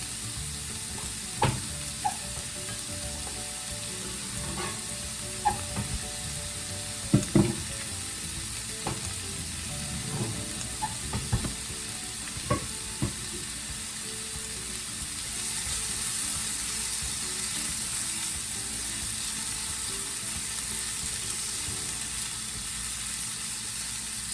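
Onions frying in an iron skillet, a steady close sizzle that runs the whole time, with occasional clicks and scrapes in the first half, then settling into an even hiss.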